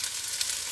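Ginger sizzles in hot oil in a pan, a steady, close hiss of frying that never stops and has no voices over it.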